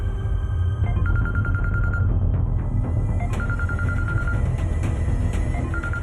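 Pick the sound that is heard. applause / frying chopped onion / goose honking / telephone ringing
telephone ringing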